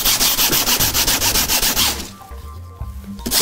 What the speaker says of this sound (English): I can only get so good with just doing the sandpaper